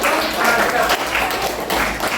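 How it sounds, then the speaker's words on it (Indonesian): Schoolchildren clapping together in a classroom, a steady dense patter of many small hands kept up throughout, fairly close and loud. "Baik, tepuk tangan anak-anak ya. Berikan tepuk tangan."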